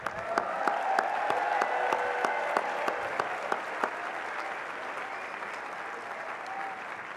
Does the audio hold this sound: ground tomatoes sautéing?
no